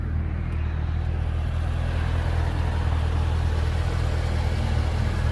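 A 2010 Chevrolet Corvette Grand Sport with a low-mileage LS3 V8 idles smoothly, a steady deep rumble that stays even and fairly loud from start to finish with no talking.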